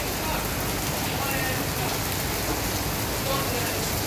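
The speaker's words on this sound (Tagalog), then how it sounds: "Pero tuloy-tuloy pa rin yung ulan. Lakas ng ulan." Heavy rain pouring in Rovinj, Croatia, a dense, constant hiss of falling water that fills the whole stretch evenly, with no break or rhythm to it.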